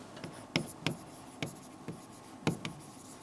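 A pen writes attribute names and data types for a UML class diagram, giving quick, close scratchy strokes in short bursts with brief pauses, and no voices.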